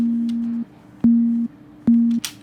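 A pure sine-wave tone from a Massive synth, pitched too high for a kick drum, plays three short sustained notes with clicky onsets in an even rhythm, clean and alone.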